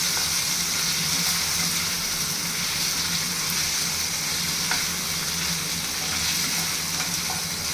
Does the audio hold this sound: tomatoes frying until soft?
yes